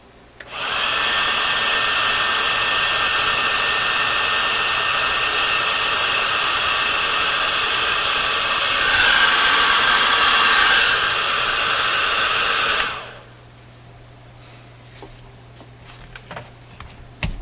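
Heat gun blows a steady loud stream of hot air onto parts of a Viking console stereo, droning evenly for about twelve seconds, surging slightly midway, then cutting off abruptly to quiet room tone with faint clicks.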